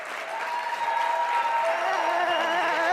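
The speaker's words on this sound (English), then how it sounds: "So, I'd like you to give a big round of applause to Laura Silva." An audience applauds a guest at a talk, a dense, steady wash of many hands clapping close and loud throughout, with a faint voice briefly audible beneath.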